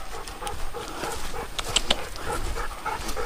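An English Setter bird dog pants rapidly and close by during a grouse hunt in a Virginia national forest, quick rhythmic breaths with a few faint whimpers and rustling, no talking.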